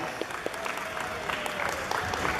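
An audience at the Gamecon 2013 gaming conference claps for an arriving speaker, a dense, lively round of applause from a sizeable crowd filling the hall for a couple of seconds.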